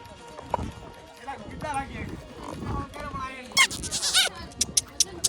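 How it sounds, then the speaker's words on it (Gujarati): A mare being ridden at a farmhouse: a few hollow hoof clops sound near the end, with people talking over the earlier part. "જો આ ઘોડી ઉપર આપણે છીએ"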